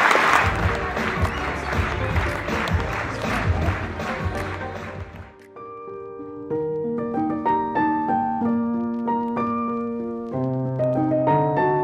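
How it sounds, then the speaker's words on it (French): A room of people gives a team a round of applause at the end of its season. The clapping is dense and continuous for about five seconds, then cuts off as music begins. "on l'applaudit encore une fois"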